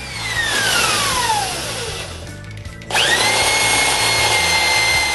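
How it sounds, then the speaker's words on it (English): A 3/4 inch hole bored into a wooden snowman body with a power drill, the motor whining loud and close, pausing briefly mid-way before the drill spins up again with a rising pitch. "Then, I drill a 3/4 inch hole in the center."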